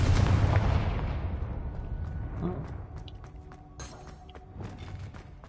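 Magic spells cast in a wizarding video game burst and boom heavily at first, then decay into scattered crackles, pops and small impacts, with sharp flickers of energy near the end.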